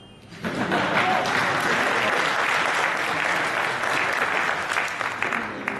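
An audience bursts into sustained applause at a financial market analysis session after a brief quiet start. The clapping stays full and steady throughout, easing a little toward the close.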